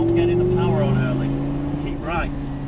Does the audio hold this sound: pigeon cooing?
no